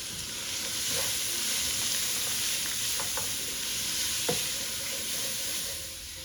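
Cumin seeds sizzle in hot ghee in a pan, a steady close crackling hiss broken by a few soft clicks and one sharp utensil tap.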